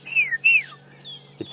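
A bird mimicking a magpie shrike, giving two clear descending whistled notes followed by a fainter, thinner whistle, heard outdoors on a safari drive, with a brief low thump near the end.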